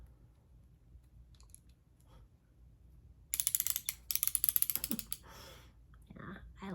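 A socket wrench ratchet clicks rapidly and close-up in two short bursts of crisp metallic pawl ticks, set against a quiet background with faint handling noise before and after.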